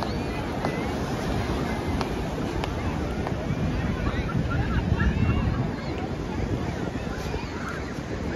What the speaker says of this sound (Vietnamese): sóng kìa, sóng giặt vào.